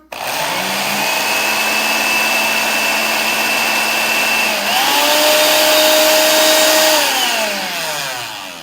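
An Oster Osterizer MAX blender runs at its minimum speed, a loud, steady motor whine with a high tonal hum that briefly dips and then rises in pitch midway before slowly winding down at the end.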